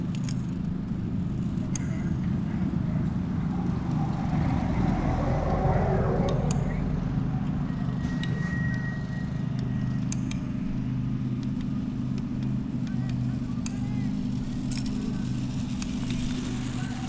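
A radio-controlled model motorcycle with a gyroscope drives, speeding up, braking and turning, as a steady, fairly loud motor hum with faint rattles that holds throughout.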